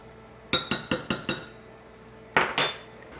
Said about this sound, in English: This is the flour, so I'm going to add the salt and the baking soda. Give that a little stir.